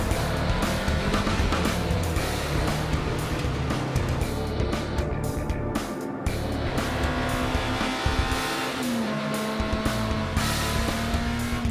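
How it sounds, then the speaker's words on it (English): A field of race cars, among them a Volkswagen Scirocco, at the Nürburgring 24-hour classic race, with engines roaring loudly and continuously as cars rev and pass, and tires squealing now and then. "122 cars roll up to the start line of the 24-hour classic race"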